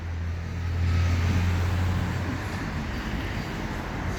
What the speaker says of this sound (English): We're right on an intersection here and there's a lot of traffic.